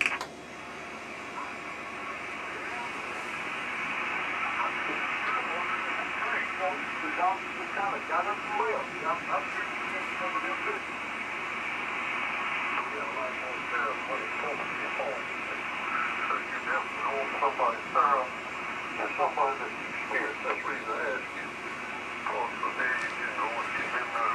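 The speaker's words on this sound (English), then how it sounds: "So here's the signal I'm receiving, lower sideband." A lower-sideband radio signal on a kit-built receiver crackles through static, with garbled, warbling voice-like bursts over a constant hiss, like speech received slightly off-tune.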